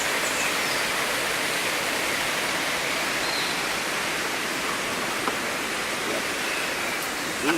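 Mineral-rich water pours steadily from springs and runoff near a volcanic crater in St. Lucia, a dense, continuous broadband rush, close and even throughout with no voices.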